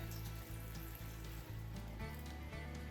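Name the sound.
water poured into microgreen tray for bottom watering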